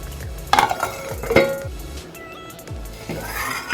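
A pot lid lifts off cooked capsicum and lentil kootu with a couple of metallic clinks and scrapes, followed by faint rustling and soft kitchen noise, with no voices.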